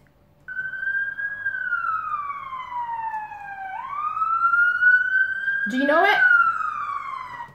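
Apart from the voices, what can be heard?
ambulance siren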